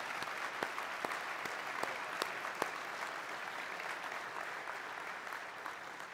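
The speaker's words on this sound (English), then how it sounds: "Let's give him a huge round of applause." Applause from diners at the closing banquet of an international conference on World War II, steady broadband clapping with a few sharp individual claps standing out, fairly faint and distant, continuing evenly for several seconds.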